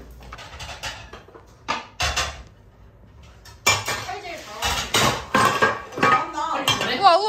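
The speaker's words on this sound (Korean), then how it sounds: "칼질 더 나온다." A knife knocks and scrapes against a board in irregular bursts, clattering loudly, with voices reacting in between.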